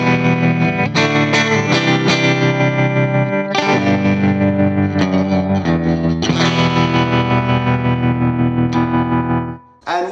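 Electric guitar through a Hotone Ampero Mini with tremolo on, alongside vibrato and compressor: sustained, pulsing chords with a shimmering, wavering texture and light drive, each strum ringing for a few seconds before the next, ending in a brief dip.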